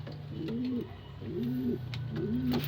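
Pigeons coo in a repeated soft rhythm, three rounded calls close by over a low steady hum.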